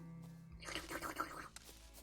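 A horse in the video game The Witcher 3 lets out a single loud, shaky whinny lasting about a second, rising out of quiet game ambience with no talk over it.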